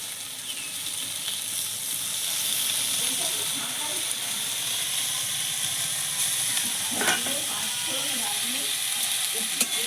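Greens, potato and eggplant sizzle steadily in a pan with fresh green chilli, a continuous close frying hiss with some stirring, and a brief louder burst midway.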